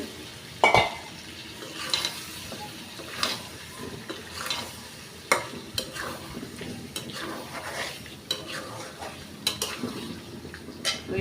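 Fried eggs being stirred into a spice paste with turmeric in a pan: a spatula scrapes and clinks against the metal in irregular strokes over a low sizzle, close and moderately loud.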